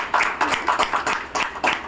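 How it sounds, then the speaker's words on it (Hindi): An audience claps in a lively, uneven rhythm to welcome a guest at a gathering, a short burst of close, moderately loud applause with no talking. "सबसे बड़ा तो रोशन जी, जोरदार ताली से स्वागत है उनके लिए"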